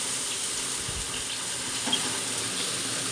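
Onion, tomato and green chili fry in a pan, giving a steady, close sizzle that holds unbroken throughout with a faint clink near the middle.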